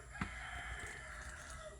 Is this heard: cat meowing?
no